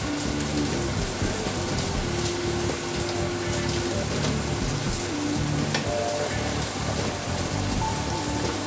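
Minced ginger sautéing in about two teaspoons of oil, a steady close sizzle and crackle running unbroken throughout, with no talk over it.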